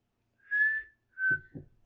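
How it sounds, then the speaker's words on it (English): A person whistles with wet lips, producing two clear sustained tones, the second shorter, followed by breathy air and soft mouth noises, close and alone. "let me see if I can show you how bad my whistle is"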